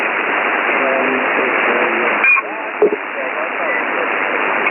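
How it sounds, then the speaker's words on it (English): Band-limited radio hiss with faint overlapping chatter and warbling tones bleeding through, a short crackly burst partway in. "on Edwin there, Papa Alpha 7 Echo Delta, but there is a bit of QRM there coming from a close by frequency there"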